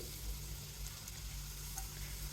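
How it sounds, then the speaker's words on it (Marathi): Pieces of ginger and garlic sizzling in hot oil in a pan, a steady faint hiss with a low hum underneath, continuous throughout with no talking. "पॅनमधले तेल गरम झालेले आहे. यामध्ये आपण घालूया थोडेसे अद्रक लसणचे तुकडे"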